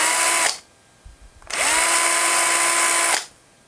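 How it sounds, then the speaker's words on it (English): A small power drill bores two little holes in a fishing lure's dive bib, with two bursts of high whining motor, the first short and the second longer, separated by a brief pause with faint handling noise. "I'm going to drill two little holes right up here."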